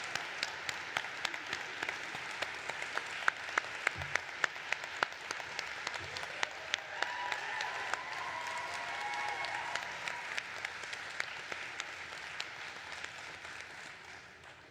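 Audience applause at a spring nursing pinning ceremony for a Daisy Award winner: a steady wash of many hands clapping in a hall. It runs for about fifteen seconds with sharp individual claps standing out, then tapers slightly at the end.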